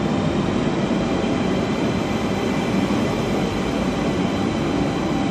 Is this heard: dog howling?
no